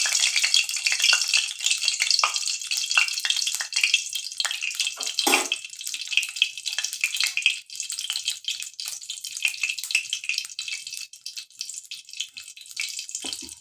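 Very hot, foaming oil heats in a pan for frying tangra fish, a dense, bright, continuous hiss and fizz with crackling bursts, close and steady throughout, with no talking.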